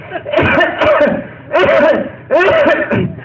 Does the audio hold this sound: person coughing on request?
yes